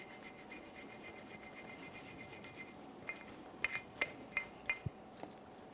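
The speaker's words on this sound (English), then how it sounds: "We're essentially cleaning the areas that the brake pads will rest." A wire brush rasps back and forth across the rear brake pad contact areas of a 2015-2019 Subaru Outback, first a rapid even scrubbing, then a handful of sharper individual metallic scrapes, close and quiet with no speech.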